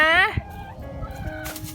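A brief loud gobbling call from a fowl opens, followed by softer clucking and scratching sounds nearby from backyard hens at their nests.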